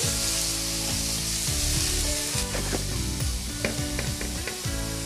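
Boiled kulekhara greens frying with garlic and chili in a pan, giving a steady close sizzle with repeated stirring and scraping strokes throughout, no voices.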